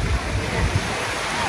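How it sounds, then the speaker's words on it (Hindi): Sea waves wash onto Bournemouth beach in the UK on a summer day, a steady broadband roar with microphone wind buffeting throughout. "ये समंदर की लहरें"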